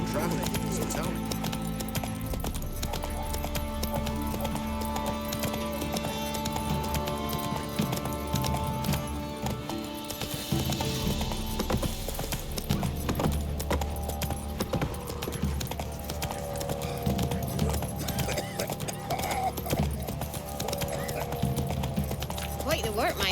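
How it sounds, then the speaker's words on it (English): Hooves of the horse Roach clip-clopping at a steady gallop in The Witcher 3 video game, with occasional whinnies, continuous and close under game dialogue and music. "Run, Roach"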